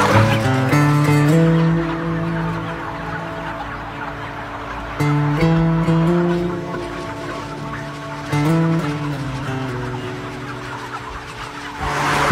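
Many chickens clucking together in a densely crowded barn, a dense, continuous chorus over a steady mechanical drone, with a few louder swells.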